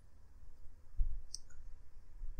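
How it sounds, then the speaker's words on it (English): A single soft computer mouse click, close and brief, in a quiet room. "So click on OK."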